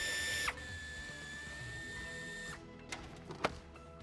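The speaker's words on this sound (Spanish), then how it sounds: "tendremos que retirar también los dos tornillos que sujetan la parte plástica" Screws are driven out of the plastic trim panel on a 2024 Dacia Duster III, heard as a close whirring power tool that stops, followed by a few sharp clicks and taps of plastic and metal.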